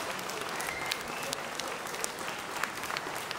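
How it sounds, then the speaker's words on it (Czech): A standing ovation from the audience at a concert by a Croatian town brass band, steady dense clapping heard throughout. "Potlesk ve stoje"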